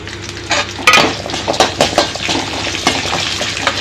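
Small onions tossed into a hot pan with cumin, coriander and dried red chillies for manathakali chutney, with a spoon scraping and clinking against the metal and a soft sizzle underneath, close and fairly loud, no talking.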